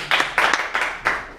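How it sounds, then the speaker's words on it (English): An audience claps in several bursts of applause during a talk on kindergarten learning, with the sharp hand-claps rising and fading in waves over a short stretch and no talking heard. "I think that you deserve a round of applause."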